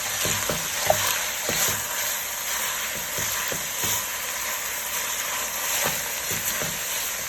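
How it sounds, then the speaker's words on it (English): Ground beef, still partly frozen, frying in a pan for lasagna, with a steady broadband sizzle under repeated scraping stir strokes from a spoon, close and fairly loud with no talking. "give this a mix."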